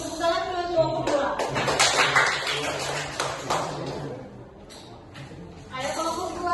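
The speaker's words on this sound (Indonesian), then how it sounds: "Tepuk tangan ke kelompok 2." An Indonesian third-grade class applauding a student group before its presentation, with scattered clapping mixed with children's voices and classroom talk.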